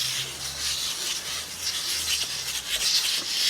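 Steady scrubbing of a stain off a house window, continuous rasping friction strokes close by, fairly quiet and unbroken, with no voices.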